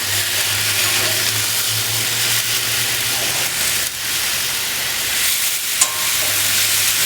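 Food sizzles loudly on a Saber Cast 500 gas grill with all three burners on full high, a constant broad hiss with a low steady hum beneath it and one sharp pop near the end.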